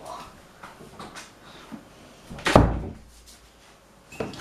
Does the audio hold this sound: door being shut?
yes